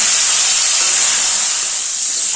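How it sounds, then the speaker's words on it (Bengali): Loud, steady hiss of split jujube fruit sizzling in hot oil, dense and unbroken throughout. "আগে থেকে যে কুলটা ধুয়ে ফাটিয়ে রেখেছিলাম সেই কুলটা দিয়ে দিলাম"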